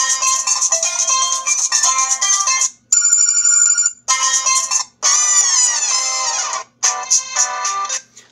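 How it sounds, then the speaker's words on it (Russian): A bright, loud electronic ringtone plays from a Cagabi One budget smartphone, a looping melody of chirpy tones in repeated bursts separated by short gaps, heard close and alone. "Послушаем, как у нас здесь рингтон работает."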